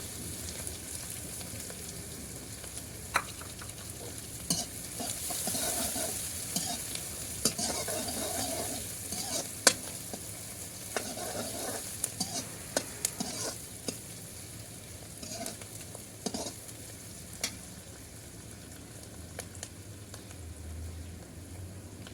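Onion fries in a pan for malai kofta, a soft continuous sizzle with repeated stirring scrapes and occasional sharp clicks of a utensil against the pan, close by and without talk.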